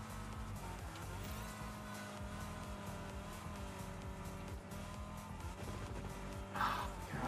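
Rocket car drifting in the Rocket Racing video game, a steady loud engine drone with layered harmonic whine and tire scrub holding throughout, swelling briefly near the end with a burst of hiss.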